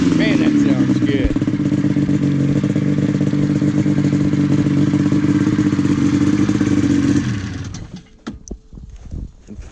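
A 1997 SKS 700 snowmobile with rare aftermarket pipes and a cracked hood runs loud and steady close by, with a rough, throbbing engine note for about seven seconds before it cuts off, leaving scattered clunks and faint voices.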